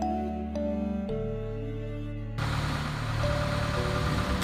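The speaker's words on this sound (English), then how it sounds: "Carry deck crane." A carry deck crane's diesel engine idles with a steady low rumble that abruptly grows into a louder, rougher running note partway through, heard up close with no talk.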